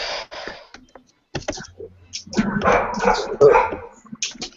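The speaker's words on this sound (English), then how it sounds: "Fucking dog." A dog barks in a few short bursts, mixed in with people talking and some keyboard-like clicking.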